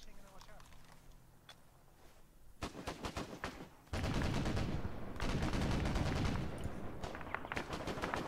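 Heavy bursts of automatic gunfire from soldiers firing at will in Arma 3, loud and dense rapid volleys that build into a sustained barrage of overlapping shots.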